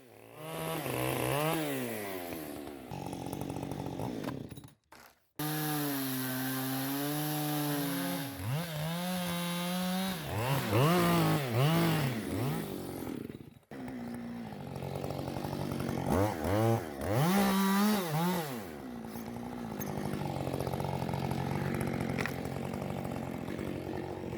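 A chainsaw cuts a rafter log for a roof frame, its engine revving and bogging under load in repeated passes, with brief pauses between cuts, loud and close.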